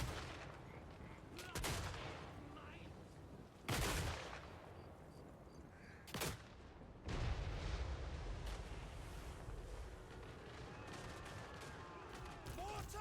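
Soldiers fire guns in a Total War: Warhammer III battle, with several sharp, loud volleys spaced apart over a rumbling battlefield background and murmuring voices beneath.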